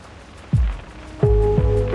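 Rain falls in the video game Reverse: 1999 as a steady wet hiss, broken by a few dull, close thuds and a faint sustained tone, with no voices.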